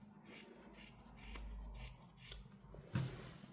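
Scissors trim the fabric seam allowances of a sewn lined bag. Several quiet, close snips and soft rubbing of cloth follow one another at an uneven pace, with no talking.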